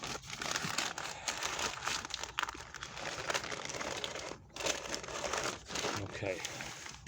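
Butcher paper folded and tucked underneath a brisket crinkles and rustles in close, loud bursts with brief pauses between them, and a voice speaks faintly at times.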